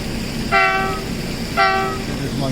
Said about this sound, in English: Train is coming now.